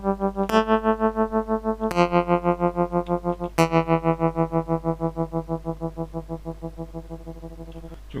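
A Vibed string instrument emulator plugin plays three plucked, buzzy string notes. Each is struck sharply and rings with a rhythmic pulsing wobble that slowly fades. The sound is distorted and echoing, over a steady low hum, with no voices.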